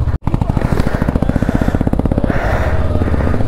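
A motorcycle on a snowy high-altitude Ladakh road at 15,000 ft revs hard in a rapid, close, loud pulsing chug while its wheels slip, steady throughout.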